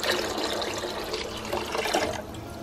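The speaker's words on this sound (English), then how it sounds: "And I'm gonna add water to this. Pour my water." Water poured steadily into a pot holding chicken stock and Lipton onion soup mix, a continuous close splashing and gurgling fill that runs for a few seconds and then thins out.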